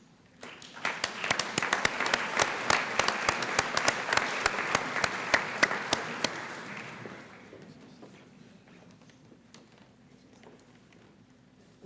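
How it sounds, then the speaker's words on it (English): Applause from a seated audience at a high school awards night, a dense burst of many hands clapping with sharp individual claps on top, swelling and then thinning out to scattered claps and room murmur. "Let's give them a round of applause."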